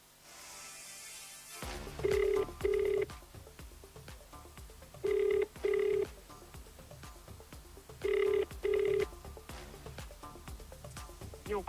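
A telephone rings during a call, heard as three evenly spaced double-ring tone pairs over a faint, hollow background, with no talking.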